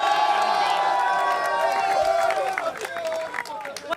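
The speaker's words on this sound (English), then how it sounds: "can we get one more round of applause for your TI champs?" A large crowd cheers and applauds the champions of a Dota 2 International grand final, loud roaring cheers with whoops that taper into scattered clapping and shouts toward the end.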